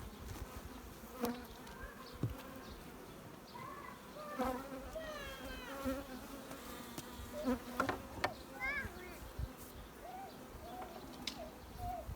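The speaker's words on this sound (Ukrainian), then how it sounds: "Шарится бджилка." Honeybees buzzing around a horizontal beehive, a steady close drone with individual bees' wingbeats rising and falling as they fly past.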